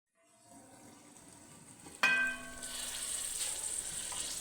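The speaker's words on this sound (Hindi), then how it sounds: "अब इसको ढकना लगा के बंद कर देंगे, हल्की आंच पे रखेंगे।" A pot of aloo baingan curry, with potato and eggplant, sits on a low flame. A soft, steady sizzle is briefly broken by the ringing metallic clank of the lid going on, and then a gentle continuous bubbling hiss carries on.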